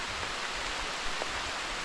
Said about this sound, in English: just walking in the rain